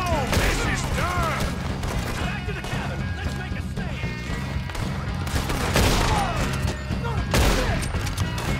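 Chaotic gunfire and crashing impacts fill a Red Dead Redemption 2 hideout shootout, with repeated shots and smashes layered over one another, loud and close, while voices shout over the action.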